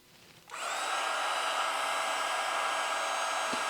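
A heat gun switched on at high, 550 degrees and maximum fan flow, starts with an abrupt whoosh and then blows a steady, loud, even roar while shrinking heat-shrink tubing on a wire; no talking.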